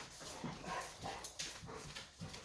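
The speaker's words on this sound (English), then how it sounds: "my dogs are in the background and they might start barking" Dogs whimpering and whining softly in the background of a quiet room, with faint intermittent yips scattered through.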